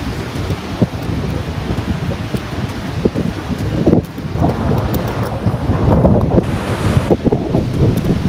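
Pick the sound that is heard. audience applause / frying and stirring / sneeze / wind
wind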